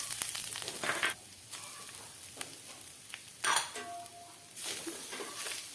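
Grated coconut stirred in ghee in a hot kadai for coconut barfi gives a soft continuous sizzle, broken by several louder scraping and clinking bursts as a spoon works against the pan. Close and fairly quiet, no talking.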